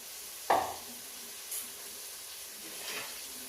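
Chopped small onions dropped into hot oil give a sudden sharp sizzle, then settle into a quiet, steady frying hiss with faint later bursts; no talking.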